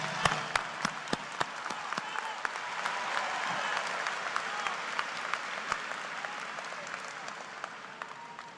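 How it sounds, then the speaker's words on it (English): Sustained applause fills a commencement ceremony hall for the university president, a dense crowd clapping steadily for over eight seconds with a few louder individual claps standing out near the front. "I think we owe her a round of applause for the job she's done here at this school."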